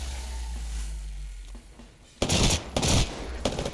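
Rapid bursts of Apex Legends video game gunfire break out after a quiet stretch, loud and clattering, in two or three volleys with short gaps.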